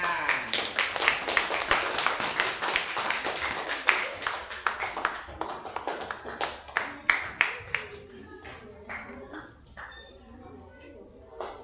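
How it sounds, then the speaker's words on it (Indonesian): A classroom group claps for the fifth team receiving a prize: a dense burst of close hand claps that gradually thins into scattered, slower claps before fading out. "Kasih tepuk tangan."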